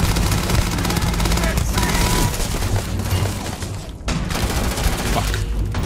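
Gunfire in the sci-fi video game Starfield: loud, dense, continuous volleys of rapid shots and impacts that rarely let up over several seconds.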